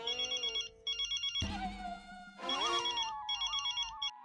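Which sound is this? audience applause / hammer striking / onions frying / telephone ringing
telephone ringing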